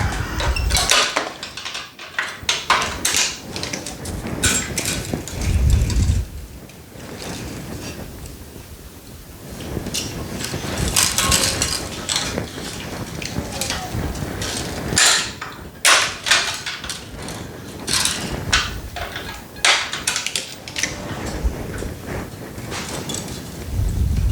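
A tennis racket stringing machine pulling tension on a 2015 Babolat Pure Aero, with a steady mechanical whir, creaks and ratcheting clicks, close and loud, swelling and easing in repeated pulls with no talking.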